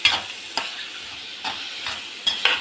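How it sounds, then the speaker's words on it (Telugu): Tomatoes cooking in a hot pan with cumin and dried red chillies, a soft continuous sizzle marked by several sharp stirring scrapes, close up with no talking. "ఇప్పుడు దీనిలో 3 టమాటాలు కూడా వేసాను"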